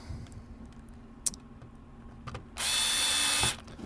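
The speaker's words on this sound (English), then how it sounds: "I just need to screw it back in." Small screws being driven back into a game controller with a magnetized bit: faint clicks, then a single loud buzzing whir of an electric screwdriver lasting about a second, close by, with no talking.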